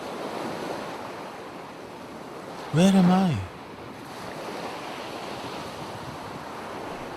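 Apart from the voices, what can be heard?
ocean waves of the sea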